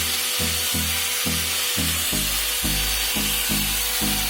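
An angle grinder fitted with a chainsaw adapter cuts through wood, a loud continuous buzzing drone with rhythmic pulses as the chain bites.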